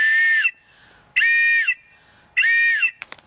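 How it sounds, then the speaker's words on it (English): Three loud, shrill blasts from an emergency whistle attached to a survival bag, each about half a second long, evenly spaced with short pauses between, followed by a few faint clicks. "it also has an attached emergency whistle"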